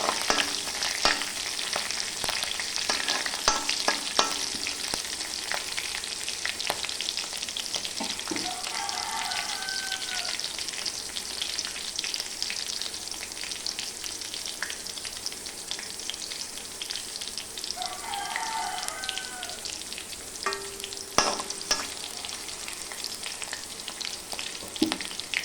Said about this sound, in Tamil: இதில் போட்ட கறிவேப்பிலை அந்த பச்சை மிளகு வாடும் வர நல்லா கிண்டி விடுங்க.